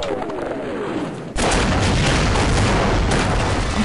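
Gunfire in the Half-Life video game bursts in loud and sudden after a quieter stretch, then rattles on as dense, continuous firing.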